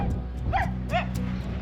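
A dog on a remote outback track in Australia gives a couple of quick, sharp yips and barks at a dingo, close by against steady vehicle or wind rumble.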